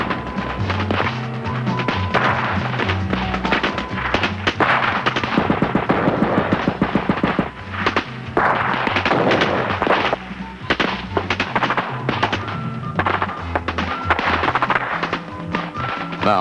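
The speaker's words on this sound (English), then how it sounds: "They sweep forward in line, pausing only to fire from the shoulder," Volleys of rifle fire from soldiers shooting from the shoulder as they advance in line toward a bridge, dense crackling shots over a continuous loud battle din, with no one speaking.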